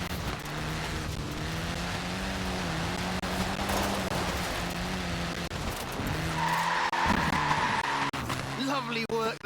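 Mini car sliding and skidding through corners in Forza Horizon 4, its engine droning steadily while tires squeal in drawn-out bursts, with a voice talking over the action.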